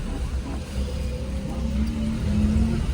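A small Suzuki Alto kei car drives through the streets of Kathmandu, its engine a steady, close low hum that rises slightly in pitch as it pulls along, with no talking.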